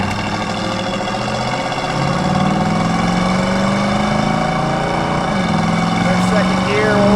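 A 1972 Chevrolet Camaro RS/SS with a 350 V8 pulls through its gears, engine drone rising in pitch as revs climb, then dropping briefly and building again, loud and steady throughout.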